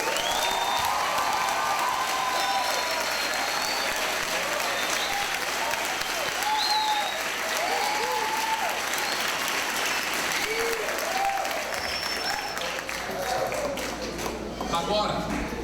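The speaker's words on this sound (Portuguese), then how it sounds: "Dê para Jesus uma forte salva de palmas." A church congregation claps steadily and strongly for the whole stretch, a continuous wash of applause with scattered cheers and voices mixed in throughout.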